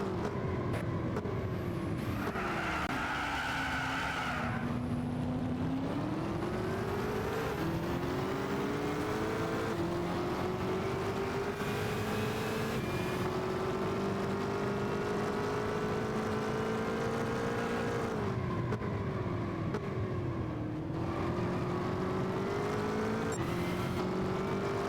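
Racing engines of a Ford GT40 and a Ferrari in Gran Turismo 6, a loud sustained roar rising and falling in pitch through gear changes and acceleration, continuous and up close for the whole stretch.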